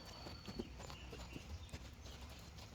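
A horse being lunged in a circle moves with soft, steady clip-clop hoof falls on the ground, faint and somewhat distant.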